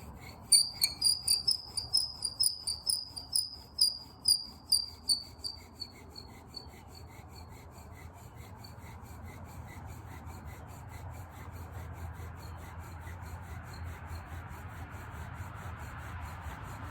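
A primitive wooden friction fire drill worked by hand in less than ideal conditions: about a dozen quick, rhythmic rubbing strokes, then a steady, softer grinding hiss as the drilling continues.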